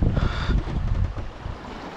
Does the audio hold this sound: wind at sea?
yes